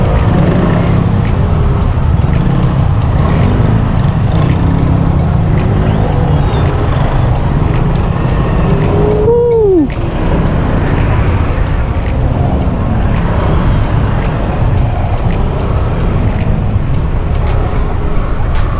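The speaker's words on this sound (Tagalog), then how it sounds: "Traffic." Loud, continuous road traffic on arrival in Cabanatuan, Philippines: a steady roar of cars, buses and trucks close by, with one vehicle passing with a short rising-and-falling whine midway. Faint voices sit under the noise.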